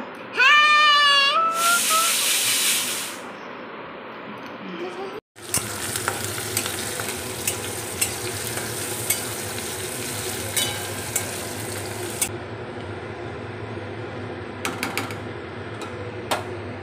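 Dal cooks in a pan with a loud, continuous sizzle and frequent sharp ticks of stirring and spattering. A brief high chirping burst opens it, followed by a short drop to near silence before the frying resumes.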